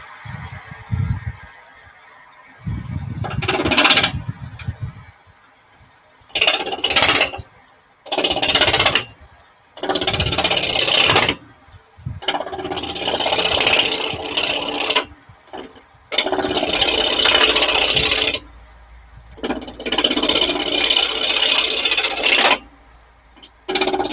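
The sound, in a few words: woodturning a bowl with a roughing gouge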